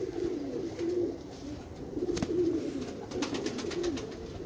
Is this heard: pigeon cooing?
yes